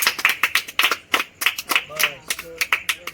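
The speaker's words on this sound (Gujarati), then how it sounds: "તાળીઓ પાડો બધા" A small group claps close by in quick, uneven bursts, and a voice briefly sounds over the clapping.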